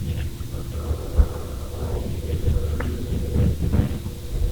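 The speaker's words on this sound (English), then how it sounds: "I know you're in heavy precipitation there as well" Heavy rain pours during a severe thunderstorm in western Oklahoma, a dense continuous roar with low rumbles of thunder rolling underneath, steady and without talk.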